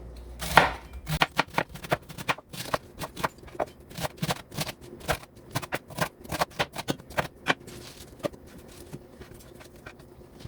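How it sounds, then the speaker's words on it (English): A knife chops fresh garden cabbage on a cutting board in steady, fairly rapid close-up strokes, following one louder knock at the start, with no voices. "Okay, I'm going to chop it up."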